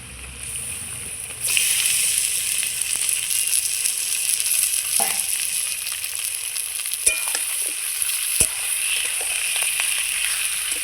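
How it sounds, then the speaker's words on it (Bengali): Chicken leg pieces fry with onions in a pan for a Bengali chicken kosha, giving a steady, close, bright sizzle that swells louder early on and then holds, broken by a few sharp clinks and scrapes of stirring. "পেঁয়াজের সঙ্গে মাংসটা কিছুক্ষণ আমি ভেজে নেব"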